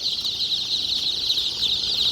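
A steady, high-pitched chorus of peeping chicks, including tiger-breed chicks, fills the space without pause, with no talking.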